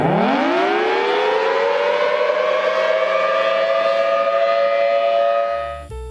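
A loud air raid siren winds up and holds a steady, sustained wail, then cuts off abruptly near the end.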